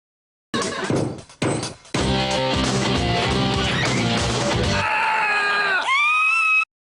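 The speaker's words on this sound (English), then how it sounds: "They're screaming because" People scream in a Halloween beer advertisement for Heineken, with sharp crashing hits at the start followed by sustained loud shrieks over music.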